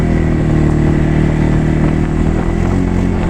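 A loud, steady jet ski engine drone in a video game, with a buzzing, high-revving tone, continuous and close, running at speed.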